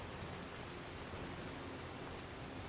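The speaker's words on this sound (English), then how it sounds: "And still it rains." Steady rain falling in the Skyrim video game, a dense, even hiss of drops across the whole stretch, constant and moderately loud with no talking.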